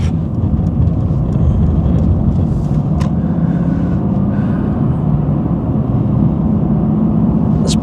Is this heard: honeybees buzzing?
no